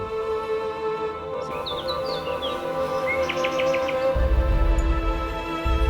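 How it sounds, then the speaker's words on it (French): Several birds sing in a cedar forest on a hillside, with short chirps and a quick trilled phrase over a steady background hum, growing louder toward the end as a rumble rises underneath. "les oiseaux."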